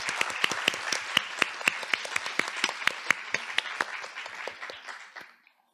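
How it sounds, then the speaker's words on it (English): An audience at a book launch gives the author a warm round of applause, with crisp, steady clapping that tapers off and fades to silence after about five seconds. "please join me in giving a big round of applause for the author, Dr. Joyce Na."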